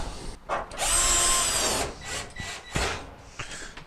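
A power drill drives screws into a Whirlpool dryer during heating element repair, with a loud whirring burst of about a second followed by shorter clicks, bumps and brief spins of the tool.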